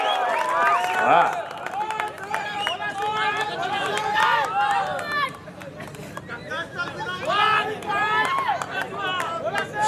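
Crowd clapping and cheering for wrestler Sikandar Shaikh at the Ratnagiri Kusti Mahasangram 2025 wrestling event, busy applause mixed with a loud announcer's voice and general hubbub throughout.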